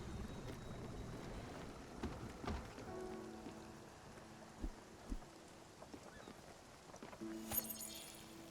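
Rain falls in the video game Spiritfarer, a faint, steady patter with scattered drops and a low hum running under it, quiet throughout with no talking.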